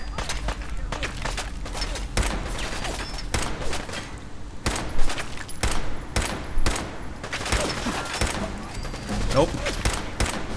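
Rapid, repeated gunfire from Fallout 4 combat, sharp shots in irregular bursts at moderate loudness over a steady game background, with a voice talking at points.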